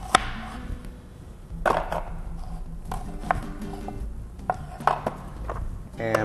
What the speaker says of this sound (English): watch how quickly it's chopped the onion